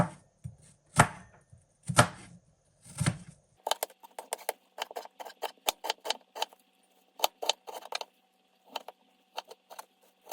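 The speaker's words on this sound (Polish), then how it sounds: "Bardzo cieniutkie paseczki teraz kroję, żeby ta kostka była naprawdę drobna." A knife chops food into very thin strips on a board while meatball patties are prepared. Three heavy, spaced thuds come first, then quick, crisp, close chops in irregular bursts.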